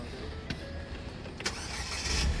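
A car engine cranks and catches after a battery check, on a car with a check engine fault and a possible immobilizer problem, rising into a steady, fairly loud idle rumble near the end.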